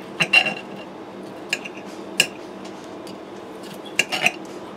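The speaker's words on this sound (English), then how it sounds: "Let me go ahead and cut in that chop" Knife and fork working through a cooked, juicy pork chop on a plate, giving a few scattered metallic clinks and scrapes against the dish at uneven intervals, close up and moderately loud over a quiet background.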